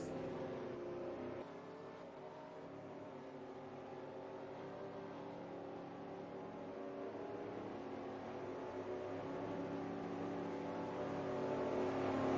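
Race cars in a Winston Cup Series racing game at Homestead: a continuous engine drone that holds at steady speed and slowly swells louder toward the end, fairly faint, with no talking.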